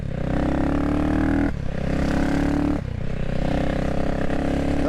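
A motorcycle accelerates through an overtake, its engine note loud and close, climbing in pitch through two gear changes with brief dips between.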